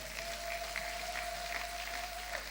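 A church congregation applauds in acclaim of the Lord, a soft, distant wash of clapping heard steadily under a faint, sustained tone.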